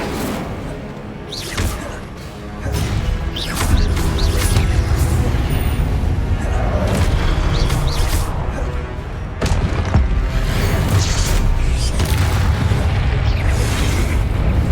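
Repeated booming blasts and fiery whooshes of Confringo and Incendio spells in Hogwarts Legacy, several heavy bursts in a loud combat din, with voices cutting in at times.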